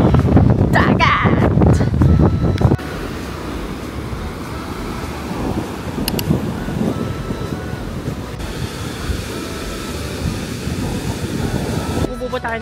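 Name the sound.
wind by the sea on Mahe Island, Seychelles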